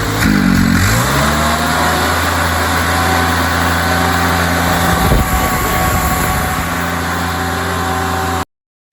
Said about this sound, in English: as you can see, I got it started. Throttle's up.